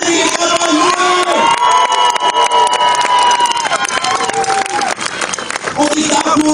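A festival crowd cheers and shouts loudly and continuously at the medieval tournament at Riegersburg, with children's voices and excited calls mixed through a dense, close roar and some speech.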